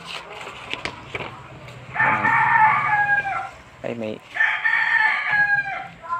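A rooster crows twice, each a loud, drawn-out call close by, with brief voices and light background noise between the calls.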